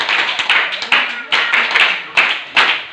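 A group clapping hard together in a meditation gathering at a Hanuman temple, loud and close, swelling in several bursts of rapid hand claps over three seconds.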